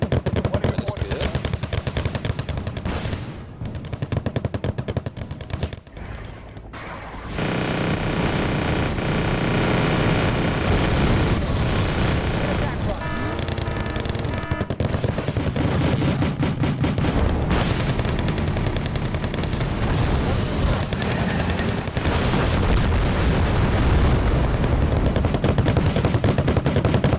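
Battlefield combat in the strategy video game Wargame: Red Dragon, dense and loud: sustained machine-gun bursts, rifle fire and heavy booms of artillery and explosions roll on almost without pause, with a voice talking briefly near the start.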